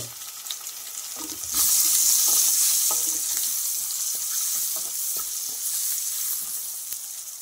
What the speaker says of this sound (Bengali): মশলাগুলো তেলের মধ্যে ভাজা হয়ে গেছে।